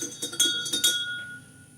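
A metal spoon clinks against the inside of a cup while stirring tea with milk and sugar, giving several bright, close taps over about a second before trailing off.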